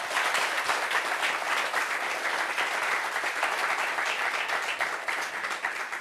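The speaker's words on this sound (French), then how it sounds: "Applaudissements pour lui, s'il vous plaît" A studio audience on a French-language talk-show set applauds a guest, a dense, steady burst of many hands clapping that holds loud for about six seconds with no talk over it.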